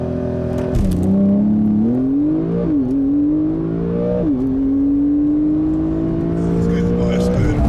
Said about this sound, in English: Then I just floor the accelerator and launch it.